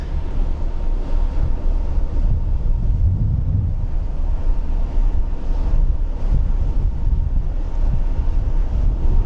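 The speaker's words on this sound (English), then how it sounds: "Hopefully you can hear me, because it's quite windy up here." Wind roars across the open top deck of an Irish Ferries ship, buffeting the microphone in a loud, steady rush with gusty swells and a low rumble beneath, and no voices.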